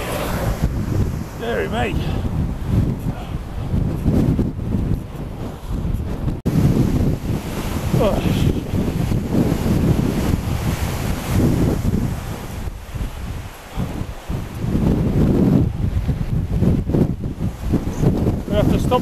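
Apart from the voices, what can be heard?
strong wind blowing at cyclist on bike crossing Shap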